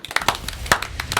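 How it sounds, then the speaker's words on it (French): A small audience gives brief, sparse applause for the elders who pass on knowledge, a handful of separate claps spread over about a second. "il faut nous applaudir tous les anciens qui transmettent"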